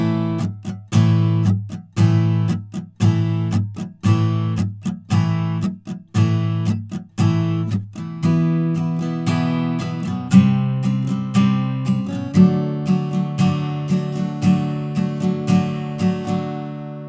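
Guitar plays the chorus of a song, with evenly spaced strummed or picked chords giving way to a busier ringing pattern; near, clear and unaccompanied by talk.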